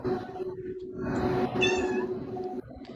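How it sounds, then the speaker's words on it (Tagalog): A cat meows a few times against a steady background hum, with one clearer drawn-out meow in the middle, moderately close and fairly faint. "Ay, may pusa pala ko rito."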